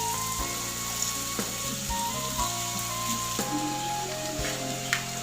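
Washed flattened rice (chira) tipped into a hot pan for chira pulao, setting off a steady loud sizzle and frying crackle with occasional stirring knocks, no talking.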